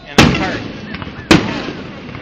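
Two sharp fireworks bangs on the Fourth of July in West Allis, Wisconsin, each a loud close burst followed by a crackling decay, about a second apart, with faint background voices between.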